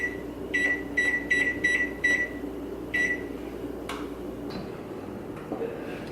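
Five short electronic beeps chirp in quick succession from an oven control panel as it is set to 375 degrees, followed by one more beep after a brief pause, then quiet kitchen handling noises.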